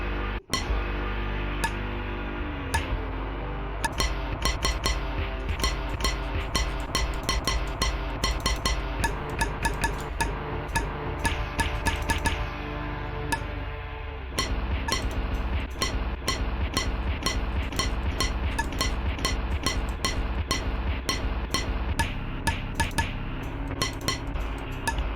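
Crisp, regular clicks mark quarter notes over a song played back at a slower rate, steady and continuous above dense music throughout, with a brief break partway.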